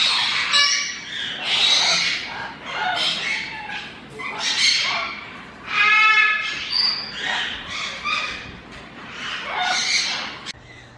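Green-winged macaws give a series of loud, harsh squawks and screeches in irregular bursts, close and prominent, with brief quieter gaps between calls.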